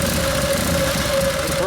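A 1952 Harley-Davidson panhead with a Linkert carburetor idles steadily, a loud, close and continuous engine drone with a low rumble and no break.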